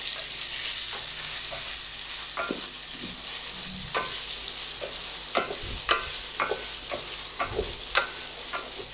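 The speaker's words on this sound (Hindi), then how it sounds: "1 मिनट के लिए मैंने बीफ को फ्राई किया।" Beef pieces frying with green chilli and ginger in a pan for karahi, a loud steady sizzle with occasional stirring clicks and scrapes close by.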